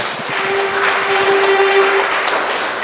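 A church congregation claps in praise during a worship service, a dense steady patter of many hands lasting throughout, with a sustained held tone ringing beneath the clapping.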